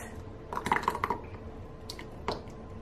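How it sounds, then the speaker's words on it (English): Small jelly jars being filled with hot chili pepper sauce: a few soft, wet squishy clicks and taps bunched together, then one more after a pause, faint and close against a quiet background. "I'll put them in the jars now"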